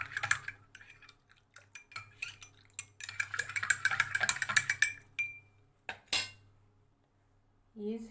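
Half a spoon of turmeric being stirred into a glass with a spoon, giving bursts of close metallic clinking and scraping against the glass, stopping and starting, with a final clink near the end.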